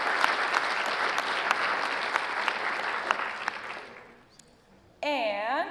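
Steady applause from a crowd at an awards ceremony fades out over several seconds, followed by a brief silence and then a voice beginning to speak.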